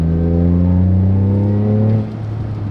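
Toyota Celica GT-Four with the OTL exhaust valve closed, engine pulling with a steady rising harmonic drone that drops off near the end, loud and close with no talk.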